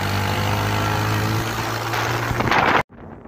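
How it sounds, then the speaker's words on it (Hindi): Motorcycle engine while riding with three people aboard through a jungle at night, a steady loud drone with low hum dominating, then cutting off abruptly near the end to quieter background. "बाइक में जो है बहुत गंदी आवाज़ आती है"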